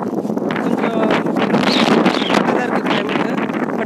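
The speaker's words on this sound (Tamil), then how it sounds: "சரியான காற்று," Strong seaside wind at Dhanushkodi roars and buffets the microphone in a dense, constant rush, with faint surf and voices blended into the noise.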